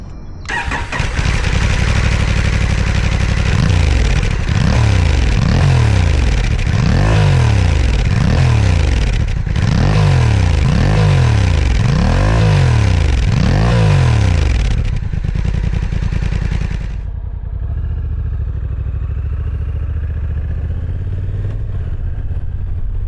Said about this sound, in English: So just riding through the neighborhood, getting ready to take this NT1100 out and do a couple of little runs